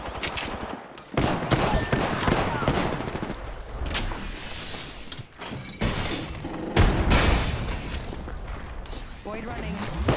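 Gunfire in a shooter video game as the player is shot at, with rapid bursts of automatic fire, sharp impacts and loud booms coming in waves, close and intense, with a voice talking over parts of it.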